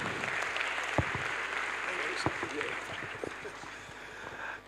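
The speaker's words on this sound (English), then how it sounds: "Another round of applause," Audience applause at a college inauguration ceremony, a dense steady patter of clapping running throughout with a few sharper claps standing out, moderately loud and continuous.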